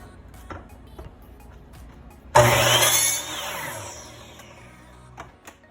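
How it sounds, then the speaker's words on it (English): A chop saw bites into concrete kettlebell handle material, a sudden loud grinding whine that holds for about a second and then winds down, with quiet clicks and shop noise before and after. "And I'm using this chop saw."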